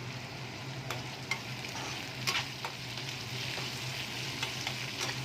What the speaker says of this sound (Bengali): তো পেঁয়াজটা আমি একটু ভালো করে ভেজে নিই